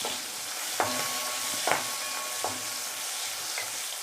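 Ingredients for green tomato chutney sautéing in a pan, with a soft, steady sizzle broken by a few brief knocks of a spoon stirring against the pan, no talk.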